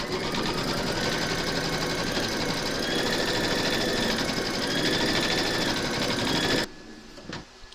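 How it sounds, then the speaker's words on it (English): An embroidery machine stitches the outline of a maple leaf applique with a fast, steady mechanical whir and rhythmic needle chatter for several seconds, then stops abruptly, followed by a couple of faint knocks. "Pop your hoop into your machine and stitch round number 2 to secure it."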